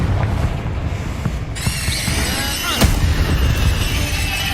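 Fire-blast spell in the game Hogwarts Legacy: a sustained roar of bursting noise with a sharp blast near the middle and a bright sizzling crackle trailing after, loud and close throughout, with game effects layered over it.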